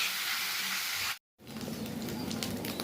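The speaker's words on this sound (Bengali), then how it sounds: "এবার মশলাটা ভাজা হচ্ছে এটা পেঁয়াজ" Onion masala frying in a pan, a continuous hissing sizzle with a brief complete dropout midway before the sizzle resumes, slightly rougher with stirring.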